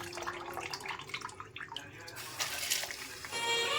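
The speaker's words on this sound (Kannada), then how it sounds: "ನೋಡಿ ನೀರು ಕುದೀತಾ ಇದೆ ಇವಾಗ ನಾವು ರೈಸನ್ನು ಸೇರಿಸ್ಕೊಳ್ಳೋಣ" Boiling water bubbling and splashing as rice for chicken biryani is poured in, with a brief rushing pour near the end; no talking.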